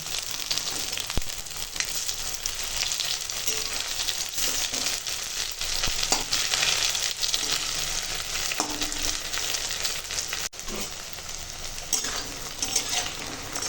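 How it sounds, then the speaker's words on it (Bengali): Masoor lentil fritters fry in hot oil with a continuous, dense sizzle, heard up close, with a few faint utensil clinks as they are turned. "তো সব বড়াগুলো ভেজে নেব বড়াগুলো একটু উল্টে দেবো"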